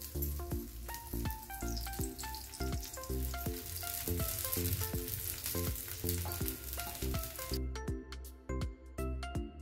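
A homemade sandwich made without maida or bread toasts in oil on a pan, giving a steady, close frying sizzle with scattered crackles throughout, heard alone without talk.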